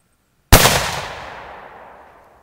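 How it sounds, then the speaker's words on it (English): A single loud shot from a Nepalese Brunswick rifle fired with a big game load, a sharp close crack followed by a long decaying echo that rolls away over about two seconds. "We have fired the shot, and you can see how it did."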